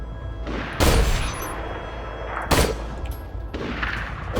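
Bandit rocket launcher in Borderlands 2 firing salvos of three rockets, heard as two loud, sharp booming blasts a couple of seconds apart over a steady rumbling game background.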